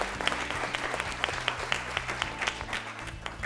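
An audience claps for a school quiz team at the end of a quiz show round, a moderate crowd applauding steadily with some sharp individual claps standing out over a low hum.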